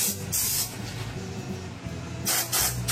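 Anti-rust rubber undercoating sprayed from an aerosol onto the underside of a Honda HR-V, steady hissing bursts that start and stop, with a strong burst at the beginning and a longer stretch near the end, no talking.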